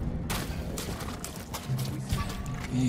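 Horse hooves clatter in the Ghost of Tsushima video game, a rapid galloping beat mixed into busy game sound effects with scattered impacts, moderately loud and continuous.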